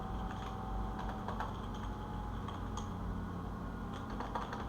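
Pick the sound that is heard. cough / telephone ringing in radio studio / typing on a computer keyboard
typing on a computer keyboard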